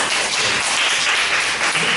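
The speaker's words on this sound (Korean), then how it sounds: "좀 격려의 박수를 좀 드렸으면 좋겠습니다" A church congregation breaks into steady, sustained applause in a large room, a dense wash of clapping held at an even level throughout.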